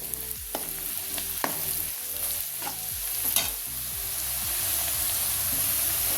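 Onion and coriander powder stir-fried in hot oil for spicy kharda chicken: a steady close sizzle with repeated scraping strokes of a spatula, building slightly louder toward the end, with no voices.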